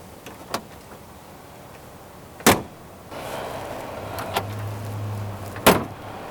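Hood of a 1965 Ford Mustang convertible shutting with a sharp, loud slam near the middle, set among a few softer clicks and knocks and a low motor hum near the end.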